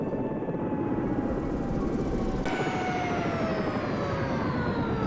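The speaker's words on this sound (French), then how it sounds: "petit tour d'hélicoptère" Steady, loud helicopter rotor drone with a whining engine tone in a helicopter rescue simulation video game, continuous throughout and without talk.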